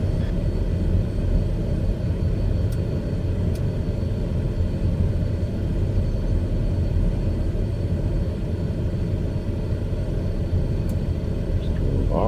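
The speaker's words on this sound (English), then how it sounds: "TBM Charlie Juliet, clear runway 31, taxiing to the hangar area via Alpha." A TBM 850 turboprop taxiing after landing on runway 31: a steady, loud engine drone and rumble with no change in level, heard from inside with no talking.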